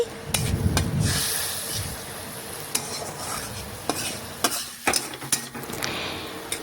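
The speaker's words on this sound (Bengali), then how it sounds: "একটু ভালোভাবে নাড়াচাড়া করে ভেজে নিচ্ছি" Onion with mustard-green chili paste, turmeric, chili powder and salt is stirred and fried in a pan, a close steady sizzle broken by repeated scraping, clicking strokes of the spatula, with no talking.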